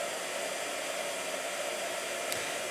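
A handheld blow dryer runs steadily in a home painting workspace, a loud, even hiss that continues without a break and with no voices.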